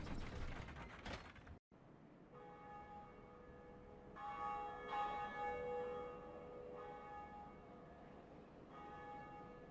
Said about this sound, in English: we are about to ring our first bell of awakening